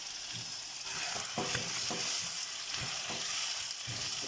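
Chicken karahi fries with three large tomatoes just added, a dense, close crackling sizzle broken by repeated scraping stirs.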